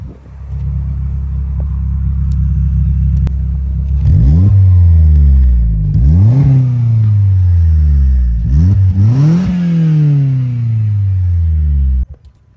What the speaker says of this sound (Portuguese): Vou dar uma aceleradinha pra gente ouvir o ronco do escape.